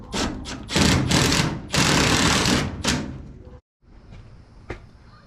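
A self-tapping screw driven into a stripped hole on a 1952 Dodge, loud close bursts of power-tool whirring in several pulses, then a pause and quieter handling clanks.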